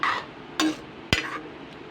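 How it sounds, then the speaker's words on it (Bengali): Taro leaves being stirred in a cooking pot: a few brief scraping, clinking strokes of a utensil against the pot, close and fairly quiet, with soft gaps between. "তো এবার একটু নাড়াচাড়া করে নেবো"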